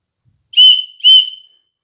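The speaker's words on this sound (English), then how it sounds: "you can blow on the whistle" Two short, shrill blasts from a small survival whistle, loud and close, each about half a second long, in otherwise silent surroundings.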